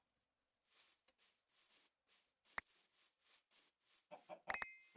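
Chickens clucking in the Minecraft modpack MCEternal, a few faint scattered clucks over a constant high insect-like ambient hiss, with no talk.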